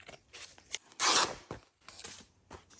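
Scissors cutting through paper while shaping a house piece for an old-style journal page, with a loud snipping burst in the middle surrounded by quieter rustles and cuts, close up and without talk.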